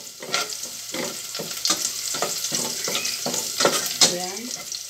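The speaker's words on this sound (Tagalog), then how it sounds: "Hintayin natin medyo ma-brown yung ating bawang." Garlic frying in a pan for chicken curry, stirred repeatedly: crackling sizzle punctuated by rhythmic scraping strokes of a spatula, close and moderately loud.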